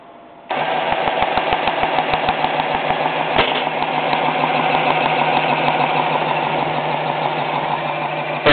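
An automatic Lego compressor built with three small pneumatic pumps starts up and runs steadily, a buzzing motor with a rapid mechanical pumping rhythm that continues loud and close, alone with no talk.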